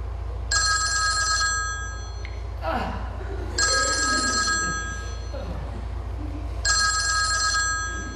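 An old-style telephone bell rings three times in long, evenly spaced bursts in a home, while people talk between and over the rings.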